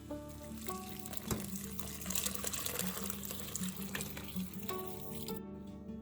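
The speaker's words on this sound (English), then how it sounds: "I'm going to add 4 cups of water to it." Water pours into a pot of rice for pulav in a home kitchen, a continuous quiet splashing trickle with faint clinks, stopping just before the end.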